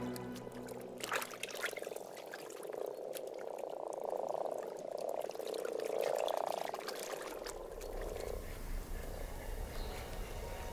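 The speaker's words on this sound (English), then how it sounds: "Frogs awaken from hibernation with only one thing on their mind." Frogs croak in a Harz region wetland in Germany, newly awake from hibernation on warm March days. A steady, moderately faint chorus of overlapping croaks and purring trills rises and falls over soft water noise.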